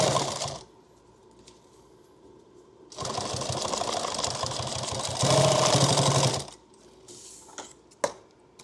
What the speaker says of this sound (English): We're going to sew this one here.